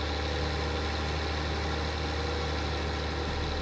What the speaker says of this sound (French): C'est du bon tracteur, ça